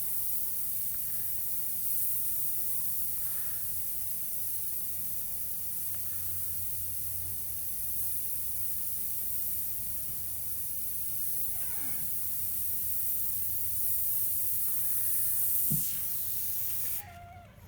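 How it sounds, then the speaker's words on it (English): An airbrush sprays paint in a continuous soft hiss, steady for most of the time with slight swells, then cuts off abruptly at the end. "Keep using the airbrush."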